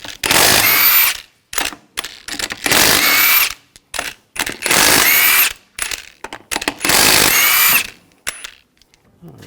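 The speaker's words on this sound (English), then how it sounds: "Using a 19mm socket, take the lug nuts off." Power tool driving a 19mm socket to remove lug nuts from a 2006-2010 Hummer H3 wheel, heard as four loud, close bursts of whirring and rattling impact, separated by short ratchety clicks and pauses.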